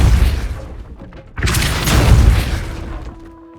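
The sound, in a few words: Depulso spell cast in the Hogwarts Legacy video game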